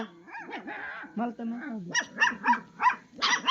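Dogs bark and yelp in quick repeated bursts nearby, with lower growling and whining sounds before the barking picks up.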